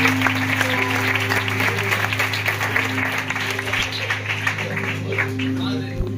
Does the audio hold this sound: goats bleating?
no